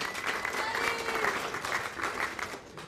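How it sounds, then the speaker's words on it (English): A roast-event audience applauds the mayor, a full, even roll of many hands clapping at once that stays steady for three seconds and then begins to thin out. "Round of applause for Buddy, the mayor, of course."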